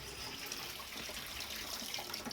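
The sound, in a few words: water running from a tap being turned off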